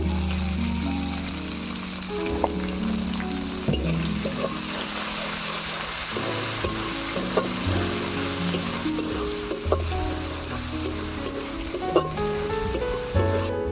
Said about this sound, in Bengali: পেঁয়াজ রসুনটা লাল করে ভাজা হয়ে গিয়েছে।